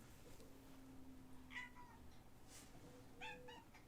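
A cat meows twice, short and fairly close, with quiet background noise between the calls.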